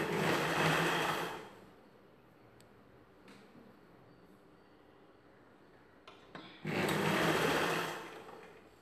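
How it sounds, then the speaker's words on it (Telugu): A sewing machine runs close by, stitching blouse pieces in two fast whirring bursts at the start and end, with a quieter pause of faint handling noises between them. "ఇలా జాయిన్ చేసుకున్న పీస్ని ఒకవైపున ఫోల్డ్ చేసి స్టిచ్ చేసుకోవాలి."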